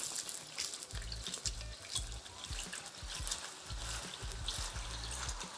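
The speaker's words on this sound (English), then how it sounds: "this is not taking long to fry at all" Food fries in hot oil with a steady, crackling sizzle and popping bubbles, moderately loud and continuous throughout with no voices.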